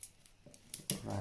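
Scissors snip through carbon fibre wrap on a Nordic walking pole, a few short crisp cuts close by in a quiet room.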